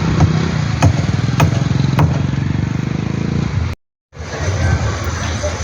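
A two-wheeler passes along a wide 35–40 ft road in a Banashankari 6th stage residential area, its steady engine drone loud and near before a brief dropout, then traffic noise resumes.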